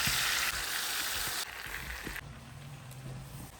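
Garlic and peppers fry in melted butter in a pan while being stirred, a loud, close sizzle that drops in intensity partway through, with faint scraping of the stirring.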